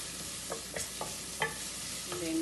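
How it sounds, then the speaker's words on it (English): Purple onions frying in a pan for lobster fried rice, a soft steady sizzle broken by a few quick stirring scrapes, close and fairly quiet. "then now I'm putting in my purple onions also."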